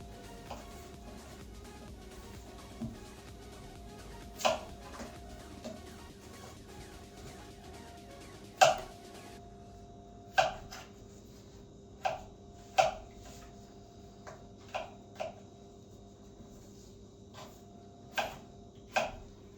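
A knife chops potatoes into small cubes on a cutting board in a home kitchen, sparse sharp knocks at irregular intervals, faint and isolated against a quiet background.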